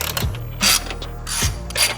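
Quick, crisp ratchet clicks in two separate bursts as fender bolts are tightened on a carbon fiber fender fitted to a 2022 11th-gen Honda Civic, close and clear with no talking.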